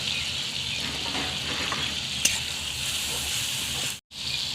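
Chopped tomato, salt and green chili hit browned onion in a pan for a red lentil dal, producing a steady, moderate sizzle with one sharp crackle midway and a brief silent gap near the end.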